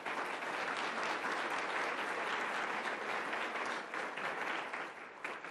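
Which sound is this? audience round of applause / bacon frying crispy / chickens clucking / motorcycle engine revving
audience round of applause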